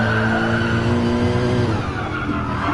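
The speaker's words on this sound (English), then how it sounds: "So that one he braked right at the cones" A race car braking hard at the cones, its tires squealing with a steady, sustained screech over a loud engine drone, close and continuous throughout.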